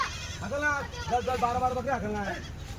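Kathiawadi dairy goats bleat close by in a run of wavering, nasal cries, several calls following one another.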